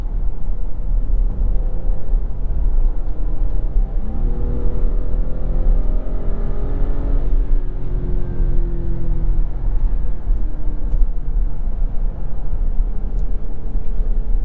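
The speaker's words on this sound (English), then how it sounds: "You can barely hear this motor, and you can hear it a little bit more as it revs out, but it is a very refined V6." A 2022 Porsche Cayenne with a turbocharged V6 revs out while driving, a muted, refined engine note climbing and falling in pitch across repeated rises over steady road and cabin rumble.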